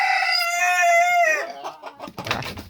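A rooster crows loudly and close, one long drawn-out call trailing off into clucking and rustling.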